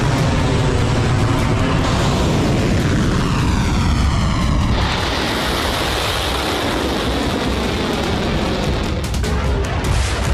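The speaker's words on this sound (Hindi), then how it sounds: "इजरायली फाइटर जेट लेबनान में लगातार बारूद की बारिश कर रहे हैं।" An Israeli fighter jet roars loud and close in a continuous wash of engine noise, its pitch sweeping as it passes overhead, with the roar shifting character midway and staying dense to the end.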